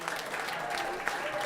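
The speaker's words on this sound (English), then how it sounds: "Would you give everyone who helped us this evening a huge round of applause?" An audience at an evening art auction claps steadily in a dense, sustained round of applause filling the room.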